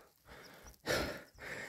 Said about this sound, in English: So you're probably going to hear breathing throughout this whole bit